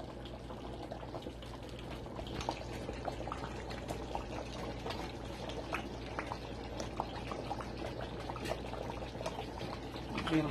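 Seasoning cubes and onions go into a simmering Ivorian palm nut sauce, with a steady bubbling sizzle and soft liquid noise throughout and small plops and stirring scrapes close by.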